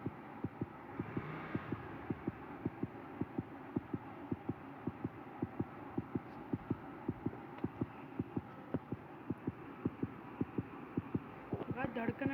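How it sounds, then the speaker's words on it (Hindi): Rapid, steady heartbeat thumps from the horror video game Granny 3, pulsing evenly about twice a second under a low background hum for the whole stretch. "गाइस धड़कनें बड़ी तेज चल रही है हमारी।"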